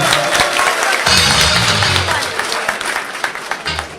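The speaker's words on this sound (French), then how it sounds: "Applaudissez très fort pour lui, s'il vous plaît." An audience applauds loudly at an inaugural ceremony for a new headquarters in Luanda, a dense, steady wash of many hands clapping that thins slightly toward the end, with a few voices mixed in.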